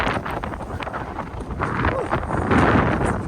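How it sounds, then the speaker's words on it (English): Gusty wind buffets the microphone outdoors at a lakefront beside a 2023 Mazda CX-50, a continuous rough rumble that swells louder toward the end, with faint knocks and rustles mixed in. "That's the price you pay for lakefront views is wind"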